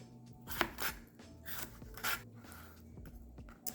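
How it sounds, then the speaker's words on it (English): A knife cuts deseeded vegetables into thin slices on a board, giving a few crisp, irregular cutting strokes with soft scraping between them, close and quiet with no talking. "we are just going to slice them into thin slices"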